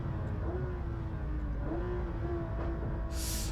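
Manthey-tuned Porsche GT3 RS racing around the Nordschleife, its engine note rising and falling through repeated revs and gear changes, a continuous loud on-board drone with a short hiss near the end.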